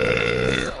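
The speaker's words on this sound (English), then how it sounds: "keep burping" A short, loud, close burp from a young woman gaming at home, one continuous belch that fades out at the end with no talking.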